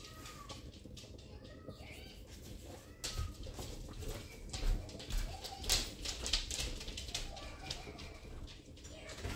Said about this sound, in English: I thought I heard a cat, but it was on the TV